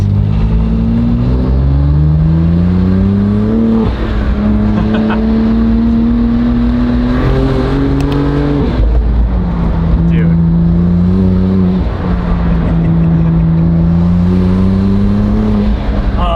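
A BMW G87 M2 engine revs up and down repeatedly, rising and falling pitch sweeps, loud and close, with people talking over it.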